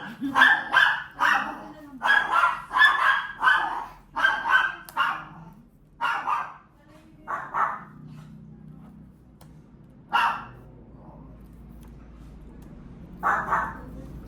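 A chow chow dog barks in a rapid burst of loud, close barks, then sporadic single barks with pauses and quieter background noise between them.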